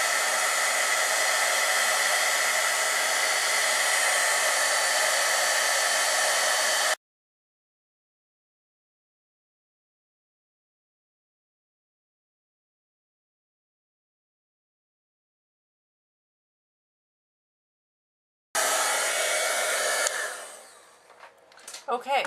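A heat embossing tool blasts hot air onto a stamped card with a loud, steady hairdryer-like roar, cuts to silence for a long gap, then roars again before sputtering off.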